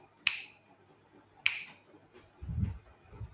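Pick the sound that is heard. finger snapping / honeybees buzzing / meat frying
finger snapping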